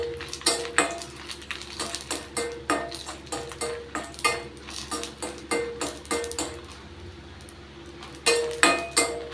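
Dried red chillies roasting in a little oil in a pan, stirred with rhythmic metallic clinks and scrapes of a spatula against the pan, close and steady throughout.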